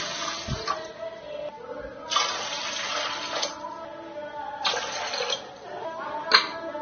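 Rice and lentils are swished and rinsed in water in a few splashing bursts, with quieter pauses between them.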